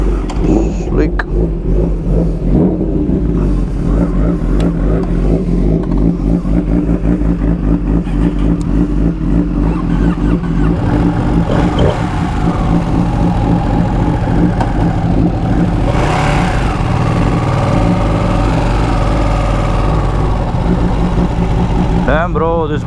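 A stock Ducati 959 Panigale sport motorcycle on an empty stretch of road gives a steady, loud engine drone that rises and falls as it revs, with voices talking at times over it.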